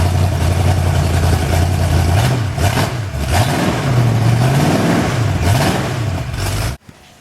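A rebuilt Ford 351 Windsor V8 engine runs loudly up close on a stand, needing tuning, its pitch rising and falling with several revs before it cuts off abruptly near the end.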